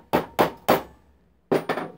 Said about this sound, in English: You can use a long punch